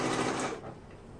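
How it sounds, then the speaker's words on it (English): Sewing machine stitching elastic onto the top of a skirt, a short close whirring run that fades partway through. "I'm stretching the elastic and then sewing along the top of the skirt."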